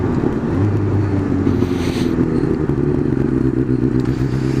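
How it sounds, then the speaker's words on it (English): Road traffic passes by, a continuous loud engine rumble and clatter like a motorcycle or car close to the microphone, steady throughout with no talking. "Oh, good. Traffic."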